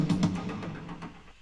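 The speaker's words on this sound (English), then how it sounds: "There's a drum fill that you'll hear throughout the song that sounds like this." Drum fill from a song remix, a short burst of tom and snare hits in quick succession over a warm low tone, with the hits thinning out after about a second.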